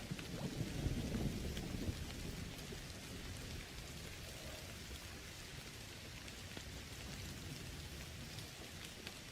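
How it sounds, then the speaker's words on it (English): Video game rain: steady rain pours down continuously while a low thunder rumble rolls in early, then the downpour hisses on evenly without any voices. "Don't you love rain?"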